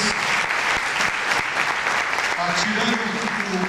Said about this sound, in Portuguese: Vamos dar um aplauso aos nossos obreiros.